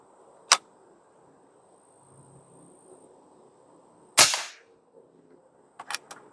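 An AirForce Condor SS .25 air rifle fitted with a Huben power regulator fires pellets at a target: sharp, isolated cracks spaced seconds apart, the last a quick double snap, with near silence between.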